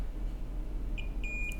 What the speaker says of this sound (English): We've got a beep